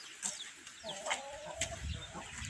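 A hen clucks among domestic fowl on a small Brazilian farm, a few short clucks and a drawn-out call at moderate distance over light outdoor background noise.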